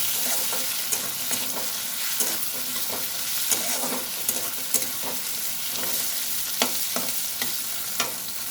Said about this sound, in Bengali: রসুন পেঁয়াজ লঙ্কা ভালো করে ভাজা ভাজা হয়ে গেছে